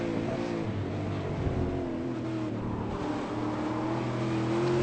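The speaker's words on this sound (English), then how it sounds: "You can hear the other car under brakes and under load as well. You hear the rumble that we never ever used to hear from the other car around." V8 Supercar racing at Oulton Park, with another car rumbling under brakes and load: a faint, continuous engine drone heard at a distance through broad track noise, its pitch shifting slightly, with no voices.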